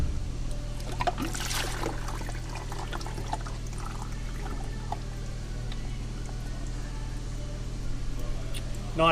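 Engine oil drains from a vehicle during its 200K service at a mechanics' workshop, a steady trickling pour over a low constant hum, with faint voices in the background.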